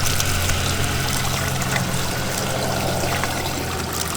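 Water rinses through a K&N air filter outdoors over dirt, a loud, continuous trickling and splashing stream with no talk.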